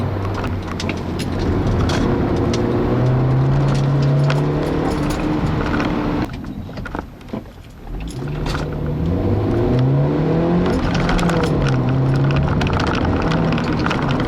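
A 2012 Honda Fit Sport accelerates hard at full throttle, the engine note rising through the revs in long sweeps, dipping briefly mid-run before climbing again, steady and fairly loud with no talking.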